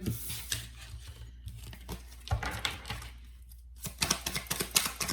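Quick papery riffles and soft flutters of tarot cards being shuffled, in bursts with short pauses, close by, with no talking.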